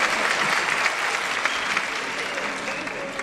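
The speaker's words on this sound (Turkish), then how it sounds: "Alkışlar iyice dikkat çeksin" Dense, steady applause from a hall audience greeting a city mayor at a talk on Anatolian wisdom and stories, sustained and fairly close for the whole stretch with no voices standing out.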